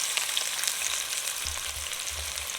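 Onion and hot pepper fry in oil in a pot, a steady close hiss of sizzling that runs through the whole moment, with a few low stirring bumps near the end and no voices.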